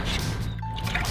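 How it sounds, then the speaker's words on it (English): Water runs and splashes briefly over a toy dinosaur freshly dug out of a dig kit, a short steady trickle with small drips close by. "let's rinse it off real quick"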